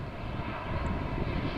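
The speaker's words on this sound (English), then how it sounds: "also narrow bodies coming in the other runway" A narrow-body airliner roars in to land on a runway at Amsterdam Schiphol Airport, a steady broadband engine rumble filling the short stretch without pause.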